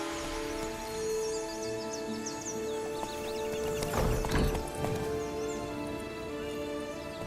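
Hooves of Roach, a horse in the video game The Witcher 3, clop along in steady rhythm under faint birdsong, with a louder burst of hoofbeats and clatter midway.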